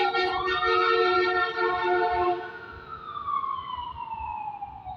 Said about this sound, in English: ambulance this time.